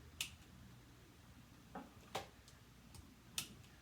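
A handful of soft, sharp mechanical clicks from a guitar wah expression pedal, spaced irregularly in an otherwise quiet room.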